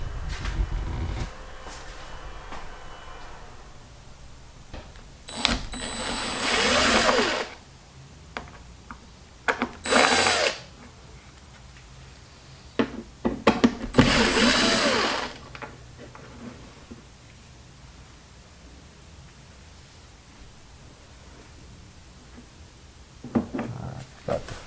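A power driver backs Phillips head screws out of a truck's cowl panel while working on the windshield sprayers, with three separate whirring bursts of a couple of seconds each, close up, separated by quiet handling noise.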